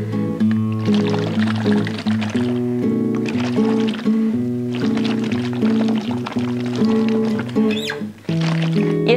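Air blown through a straw into a glass of water makes continuous bubbling, joined by sustained voiced tones sung or hummed through the straw, in several long phrases separated by short pauses.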